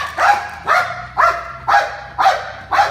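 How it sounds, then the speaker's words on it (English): A police dog barks in a steady series of six loud, close barks spaced about half a second apart, with no talking between them. "The dog will go ahead and go into a guard and bark again."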